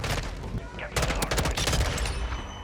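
Burst gunfire from an M16 in the Modern Warfare 2 video game, several rapid volleys cracking loudly through the clip over a busy game backdrop, with brief voice sounds mixed in.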